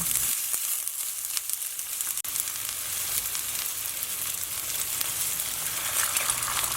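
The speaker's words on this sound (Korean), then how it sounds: "이제 팬에 기름을 두르고 팬이 발 달궈지면 대파를 넣고 파기름을 내주세요" Chopped green onion sizzling in hot oil in a preheated pan, a dense, even crackling hiss that holds steady and close throughout, with no voices.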